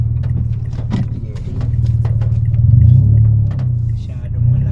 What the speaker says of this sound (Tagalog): Umatras na yung sasakyan.